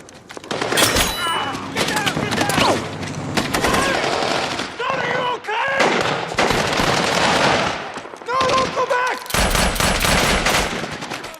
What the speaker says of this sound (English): he is a machine gunner. Machine guns could be very loud.